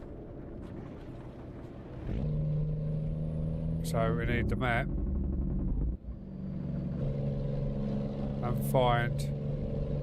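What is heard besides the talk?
car engine sound in a video game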